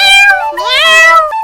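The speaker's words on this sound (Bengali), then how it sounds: "বাচ্চাগুলো মিয়াও মিয়াও করতেছে কেন?" Cartoon kittens meowing in a quick run of high, stretched mews, loud and close, with no other sounds.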